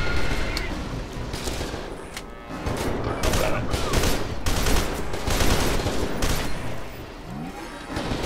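Rapid, loud bursts of gunfire from the first-person shooter F.E.A.R. 2: Project Origin, dense automatic volleys and single shots overlapping almost continuously, with brief lulls between clusters.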